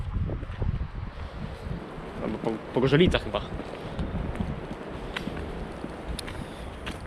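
Wind gusting on the Baltic coast of Poland rumbles and buffets against the microphone throughout, with someone speaking over it.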